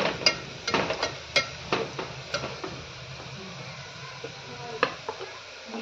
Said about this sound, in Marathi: खडा मसाला 1 मिनिटभर परतून घ्यायचा त्याच्यासोबत